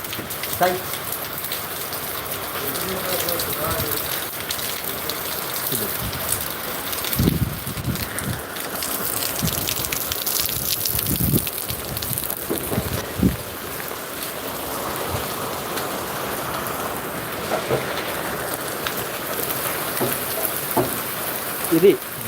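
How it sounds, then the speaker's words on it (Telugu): Steady heavy rain pours down in Zaheerabad, Sangareddy district, India, throughout, a dense hiss with occasional louder splashes and drips nearby. "సంగారెడ్డి జిల్లా జైరాబాద్లో వర్షం అయితే పడుతుంది"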